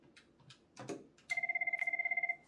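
A VoIP office desk phone rings with an incoming call: a fast, even electronic trill pulses loud and clear for about a second after some quiet handling noise.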